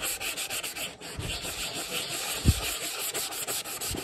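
Steady abrasive rubbing and sanding on a metal tin being distressed by hand, a continuous gritty scrape with a few soft knocks, close and fairly loud, no talking.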